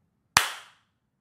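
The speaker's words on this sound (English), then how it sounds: "And we're clapping." A single sharp clap-like crack, near and fairly quiet, with a quick decaying tail and nothing else around it.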